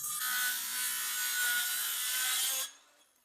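A wooden pergola beam being cut with a saw, giving one continuous, loud, rasping stroke of about two and a half seconds close to the microphone before it stops abruptly.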